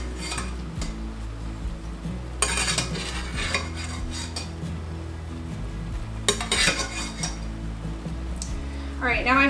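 Boiled rutabaga gnocchi are scooped out of a pot with a metal utensil, giving repeated clinks and scrapes against the pot over a constant low hum from the stove.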